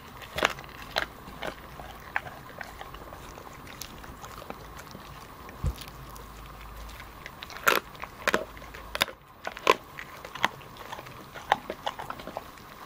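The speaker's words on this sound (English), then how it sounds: "Let's just crunch on the bones." Chicken bones being chewed and crunched, a string of sharp, close biting cracks scattered irregularly over a low, steady background, with no talk.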